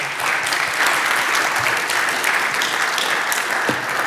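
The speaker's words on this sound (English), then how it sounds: "Any big applause for Christian again?" Steady applause from a conference audience in Bogotá, a dense even patter of many hands clapping, fairly close and without speech.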